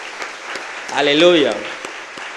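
A church congregation claps for the congress organizers, scattered handclaps heard under a loud, drawn-out voice calling out mid-clip.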